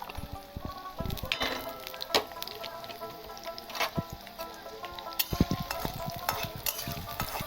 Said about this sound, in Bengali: চলো আলুগুলো ভেজে দিই